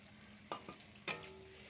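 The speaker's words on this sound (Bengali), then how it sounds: "আমি আদা কুচিয়ে দিয়েছি আদা তারপরে রসুন আর পেঁয়াজ আর লঙ্কা কুচোনো এটাকে তেলে ভাজা করে নিচ্ছে" Chopped ginger, garlic, onion and chili sizzle quietly in hot oil while a utensil scrapes and stirs the pan a few times, close up, with no voices.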